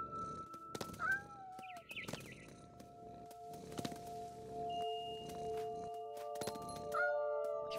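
A cat meowing in the video game What Remains of Edith Finch, several short close meows spread over the clip, with game clicks and thumps and sustained tonal game sounds beneath.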